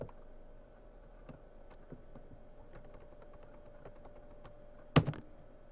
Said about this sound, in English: I'm clicking space.